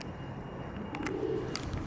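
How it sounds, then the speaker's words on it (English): Pigeons cooing close by, a soft low murmuring coo over steady outdoor background noise, with a few faint chirps and rustles. "Happy pigeons,"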